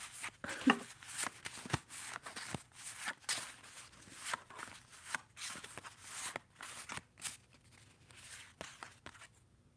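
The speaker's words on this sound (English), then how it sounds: "let me get the cards here, and I'll shuffle them so you can see" Playing cards shuffled by hand, a run of soft papery riffles and flicks spread over several seconds, quiet and close with light clicks between.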